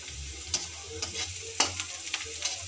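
Onions frying in a pan with occasional stirring scrapes, a soft steady sizzle with a few sharper clinks, close and fairly quiet, no talk.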